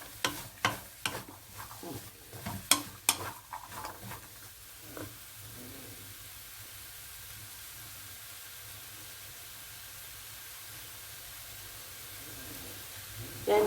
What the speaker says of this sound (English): Just mix them together, guys. You just have to make sure that they're sauteed properly.